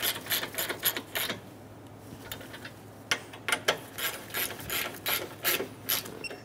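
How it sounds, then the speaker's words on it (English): A ratchet wrench snugs exhaust manifold bolts on a 2003-2007 Honda Accord, giving quick rhythmic clicking bursts of pawl ticks close by, pausing briefly around the three-second mark before resuming in a steady series. "Snug the bolts down."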